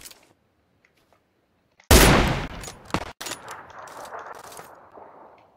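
Gunshots in PUBG Lite, a loud close burst of fire after near silence, then a few more sharp reports with ringing, metallic decay.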